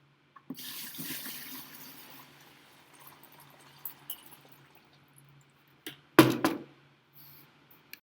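Tap water runs into a bucket while a one-part mold is being made, a steady filling rush for several seconds that fades, then a short louder splash near the end.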